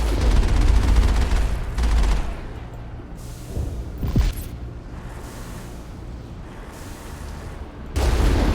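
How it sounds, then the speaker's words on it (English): Rockets firing and exploding in a video game: heavy bursts of rapid blasts and booms with a whooshing streak midway, loud and close, easing to a rumble before another barrage hits. "Oh, it's a lot of rockets."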